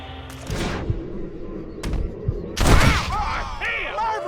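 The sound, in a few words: gunfire in video game Red Dead Redemption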